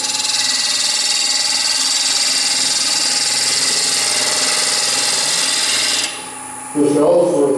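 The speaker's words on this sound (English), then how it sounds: "This Ellsworth grind is really quite nice for the drag cut." Steady, loud lathe hum with a continuous scraping hiss as a woodturning gouge with an Ellsworth grind makes a drag cut on a small pointed bowl, then a brief pause and a rougher burst of cutting.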